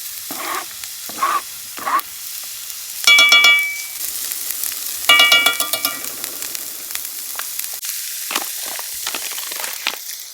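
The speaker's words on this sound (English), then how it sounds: "we got to get some onions and peppers in here and saute them" Onions and peppers sautéing in a pan on a wood stove, a close frying hiss with bursts of louder crackling sizzle as the vegetables go in, plus occasional scraping stirs and taps, no talking.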